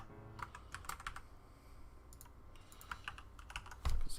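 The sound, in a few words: computer keyboard typing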